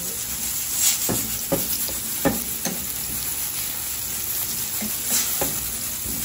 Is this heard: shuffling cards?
no